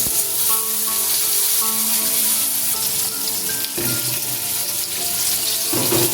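Hog plums (amra) frying in a pan for a chutney, a continuous close crackling sizzle with faint tonal hums and occasional louder spits, no talk.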